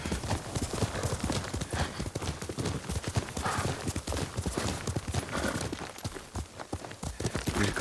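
Steady, rapid hoofbeats clip-clop throughout as a horse trots in the video game Ghost of Tsushima, loud and close, with faint background ambience.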